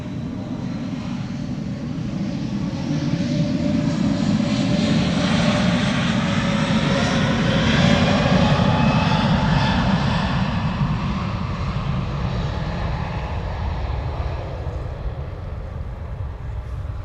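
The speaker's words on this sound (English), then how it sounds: "Flight 107 to Rome, it's an A321neo." An Airbus A321neo jet bound for Rome roars through its takeoff at Amsterdam Schiphol, a loud, sustained engine rumble that swells and slowly fades.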